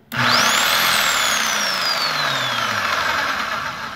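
A Bauer 1-1/8 inch SDS variable-speed rotary hammer motor spins up in first speed with a rising whine that settles into a steady, close electric hum, then slowly fades.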